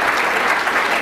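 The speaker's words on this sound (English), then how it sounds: "one more round of applause" Steady, dense applause from an audience at a clean-water event with a senator and congressmen, sustained and loud throughout with no gaps.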